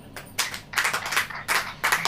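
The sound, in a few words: congregation clapping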